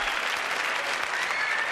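Dense, steady clapping from a television studio audience measured on an applause meter, a brief uniform burst at full volume.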